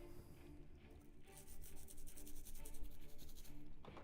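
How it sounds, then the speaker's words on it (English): A scrubber rubbing paint off a plastic scale model, giving a continuous scratchy, brushing friction that stays close and fairly steady, growing a little busier toward the middle of the stretch. "All right, we'll try the scrubber."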